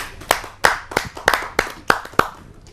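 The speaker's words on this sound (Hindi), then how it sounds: "मैं आमंत्रित करता हूँ आप सबकी जोरदार तालियों से झांसी से पधारी हुई उमा शर्मा जी को" A small audience at a Hindi poetry gathering claps sparsely, about eight distinct, evenly spaced hand claps ringing out clearly over a quiet room.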